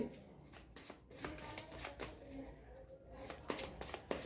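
Handmade cards being shuffled by hand, a steady run of soft papery riffles and flicks close up, with a faint voice underneath at times.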